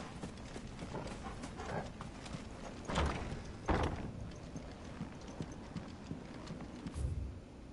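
A horse trots steadily in Final Fantasy XVI, its hooves clip-clopping in an even rhythm, fairly close and moderately loud, over a low ambient game background with no talking.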